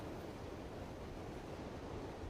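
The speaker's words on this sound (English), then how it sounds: "Currently dry in South Haven, but certainly windy, if you can tell." Strong, steady wind roars without pause at the South Haven lakeshore during a winter storm. The broadband rush buffets the microphone throughout, with no voices.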